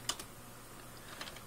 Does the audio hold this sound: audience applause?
no